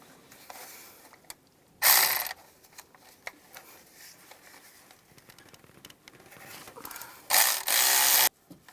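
A ratchet with a 10mm socket loosening the nut on a transmission dipstick tube bracket on a 2002-2009 Chevrolet Trailblazer, two loud bursts of rapid clicking near and at the end, with quieter metallic handling and small taps between.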